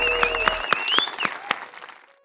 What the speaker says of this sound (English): Let's have a massive round of applause, Samantha.